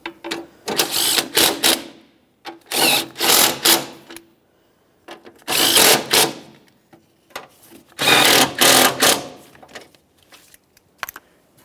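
Fastening bolts on a 2009-2014 Nissan Maxima radiator fan assembly: four bursts of close, loud ratcheting-like mechanical whirring, each lasting about a second, with short quiet gaps between them.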